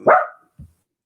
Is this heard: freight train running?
no